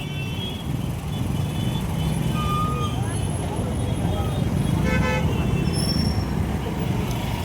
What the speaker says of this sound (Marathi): Traffic traffic traffic.